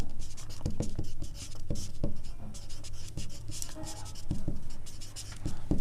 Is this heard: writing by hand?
yes